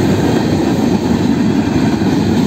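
KCSM northbound freight train led by two ES44AC locomotives, numbers 4901 and 4903, rolls past as a loud, steady, close rumble of engines and wheels that never lets up.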